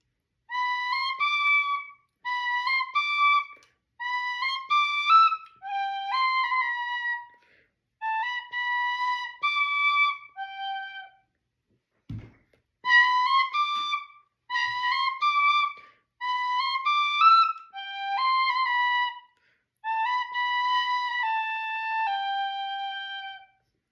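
An Eb tin whistle plays low notes in short melodic phrases separated by pauses, clear and close, with a brief breath sound in the middle and no talking.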